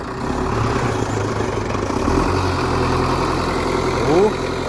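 The engine of an MTZ 892 tractor with a Galt loader runs steadily up close while loading organic fertilizer, a continuous low rumble with a brief rise in pitch toward the end, and a voice speaks over it.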